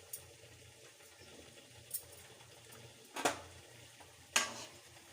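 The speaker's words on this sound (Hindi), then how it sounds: "आप एक साथ 6 या 7 लोई को एक बार तल सकते हैं।" Balushahi dough balls frying in a pan of oil on low heat give a faint, steady sizzle, broken by a few louder clinks and scrapes from stirring utensils.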